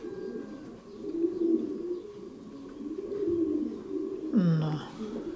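Several pigeons coo in low, throaty, overlapping calls close by in a pigeon loft, repeating steadily, with one louder burst of cooing and fluttering near the end.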